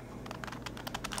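Large 5x5 Rubik's cube turned quickly by hand while attempting a corner cut, a brief burst of close, dry plastic clicks and rattles.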